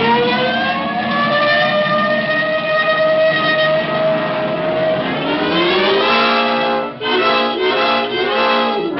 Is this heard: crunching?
no